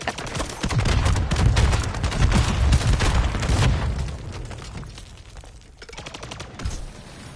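Rapid explosive bursts from a grenade launcher fired at zombies in a video game, a dense, loud barrage of booms and blasts for several seconds before thinning out, with no talking.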